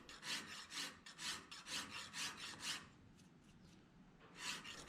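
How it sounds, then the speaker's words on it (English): Rhythmic rasping strokes of a hand file on high carbon steel knife stock, repeating steadily back and forth, close up, with a brief pause before the filing resumes. "I spent quite a bit of time filing and then sanding the facets, the handle, and of course the blade."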